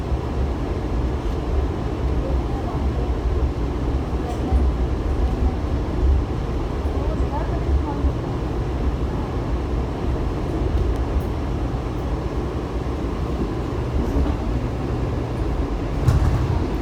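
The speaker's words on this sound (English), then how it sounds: "It is an 8-car train. That's a 6K." An eight-car 6000-series metro train rolls into a station with a steady low rumble and hum that stays fairly even throughout, with a faint metallic squeal near the end.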